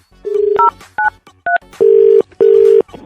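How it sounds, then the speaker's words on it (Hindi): A telephone keypad beeps out a number in a quick run of short DTMF tones, ending with two longer held tones, loud and close with no talking. "भाई साहब को फोन लगाता हूँ मैं"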